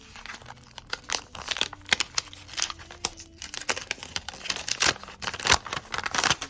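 Paper surprise packet torn open and unfolded by hand, with close, busy crinkling, crumpling and brief tearing bursts continuing throughout.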